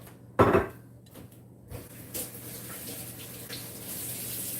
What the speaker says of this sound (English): I'm going to go rinse my hands off